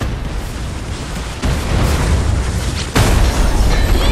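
Dynamite blasts in the Fortnite video game: two loud, booming explosions about a second and a half apart, each leaving a heavy, sustained rumble that fills the whole clip.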